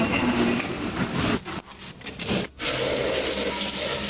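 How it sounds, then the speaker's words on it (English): A shower head running steadily at close range, a continuous wash of spraying water that briefly dips and sputters midway before resuming at full flow. "I love that shower head, by the way."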